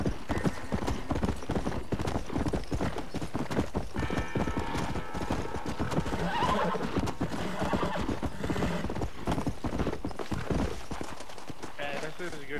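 Steady clip-clopping hooves of a horse in Red Dead Redemption, joined by a whinny, over busy game sounds and music, with a voice talking at times.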